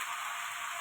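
Turmeric and spices frying in a pan with pui shak (Malabar spinach), potato and shrimp, giving a steady, even hiss of sizzling oil that runs unbroken throughout with no talking.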